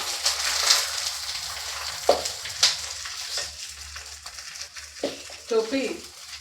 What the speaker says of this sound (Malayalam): ഇതൊന്ന് ഇളക്കി സെറ്റാക്കിയിട്ട് കുറച്ചേരം മൂടി വേവിക്കാം